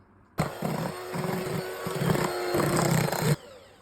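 A handheld electric mixer beats egg whites with starch at low speed for a meringue roll, a close, buzzing motor whir lasting about three seconds that starts and stops abruptly, with a rhythmic chop as the beaters move through the bowl.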